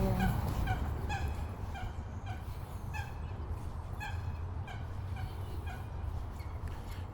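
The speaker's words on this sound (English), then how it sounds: "Local geese, I think I mean domestic geese." Domestic geese call in a series of honking, gobbling cries from a little distance beside a London canal, repeated irregularly over a steady outdoor rumble of wind or traffic.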